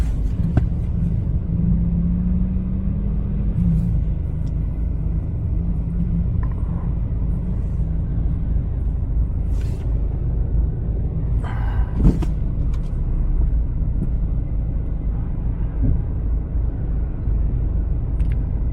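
Heavy traffic on Daang Hari road: a steady, loud low rumble of many cars crawling close by, with occasional engine swells and passing vehicles, no talk.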